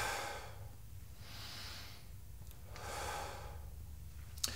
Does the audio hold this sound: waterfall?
no